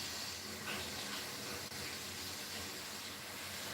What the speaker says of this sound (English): She's running water out there.